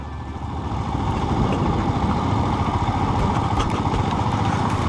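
Steady rumbling motorcycle engine running continuously up close while riding around Hampi, a low droning hum with no speech.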